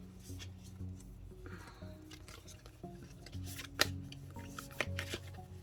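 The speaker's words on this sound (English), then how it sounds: "let's shuffle these up real quick" A deck of Wild Unknown Animal Spirit oracle cards being shuffled by hand gives soft riffling and flapping with a few sharper snaps, fairly close and quiet, while low music plays underneath.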